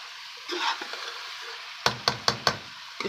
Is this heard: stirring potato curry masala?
yes